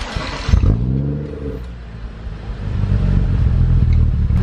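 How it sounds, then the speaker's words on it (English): A car with a Valvetronic exhaust starts up: a loud, close crank that catches into a deep revving roar, then settles to a steady, throaty idle rumble, with no talk over it. "It does have a Valvetronic exhaust, but you know, why not get this startup in the video?"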